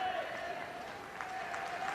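A crowd applauds at Dagenham and Redbridge's ground before a women's FA Cup semi-final between West Ham United and Manchester City, a soft, distant wash of clapping with a voice talking faintly over it.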